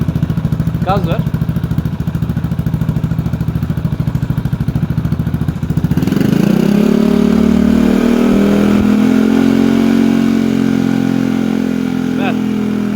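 A Yamaha XMAX 300 scooter fitted with a 76mm TDR 350cc kit and its muffler idles with a fast, even putter, then revs up sharply and holds a loud, strained roar that eases slightly toward the end.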